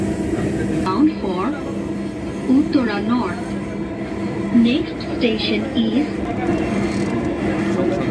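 A Dhaka Metro Rail train rumbles steadily along with a constant low roar and occasional squeals, while a voice talks over the noise.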